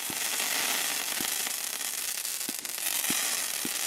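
Aldi firework cake from the 2025 range firing shots with a crackle effect: dense, continuous crackling hiss fills the air with several sharp pops punctuating it, loud and fairly close.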